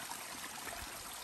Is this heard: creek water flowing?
yes